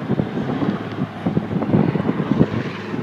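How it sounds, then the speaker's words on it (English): Japanese Zero warplane at an air show flying past overhead, a steady propeller-engine drone with gusty wind buffeting the microphone throughout. "Japanese Zero."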